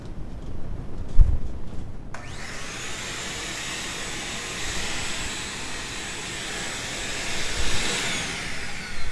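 After a thump and a moment of quiet, a vacuum cleaner starts up and runs loudly and steadily with a whining, rushing roar.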